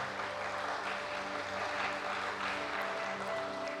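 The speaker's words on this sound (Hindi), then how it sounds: "एक बार करतल ध्वनि कर लें, तालियां अपने लिए, अपनी सफलता के लिए।" Participants clapping during a guided creative meditation session, a soft, distant spread of many hands applauding steadily over a low constant hum, fairly faint with no clear talk.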